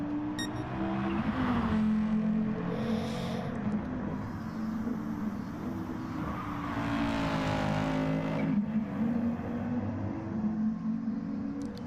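Race cars in a racing video game during a one-hour endurance event roar past with a steady engine drone that swells and fades as they pass, loud and continuous.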